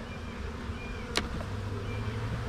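Honeybees buzzing in an opened hive in spring, a faint steady hum with one brief sharp click partway through.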